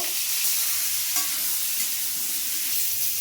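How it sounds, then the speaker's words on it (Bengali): Pointed gourd and potato pieces fry in oil for an egg curry, giving a continuous bright sizzle with a faint clink of stirring, close and steady, no talk. "পটল আর আলুটা লাল লাল করে ভাজা হয়ে গেছে"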